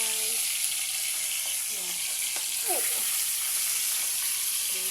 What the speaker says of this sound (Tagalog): Iprito natin guys. Okay. Prito na yan guys.